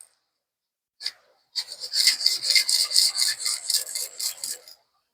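A gray Scotch-Brite pad scuffing the surface of a plastic crankbait fishing lure: one brief rub, then a run of rapid, close back-and-forth scratchy strokes.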